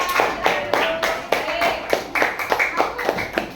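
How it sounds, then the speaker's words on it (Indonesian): Classroom applause from students during a lesson on social norms: a burst of steady, fairly close hand claps that continues for several seconds with a slightly uneven rhythm. "kasih tepuk tangan bagi kita semuanya"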